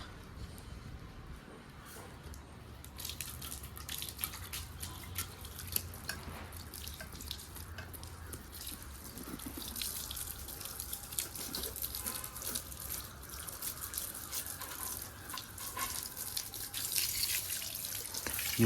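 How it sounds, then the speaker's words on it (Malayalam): Water runs from an opened hose pipe for washing a motorcycle, a continuous gushing, splattering stream that builds and stays steady, fairly close, with faint background sounds. "ഇപ്പോൾ നമുക്ക് പൈപ്പ് തുറന്നു വിടാം."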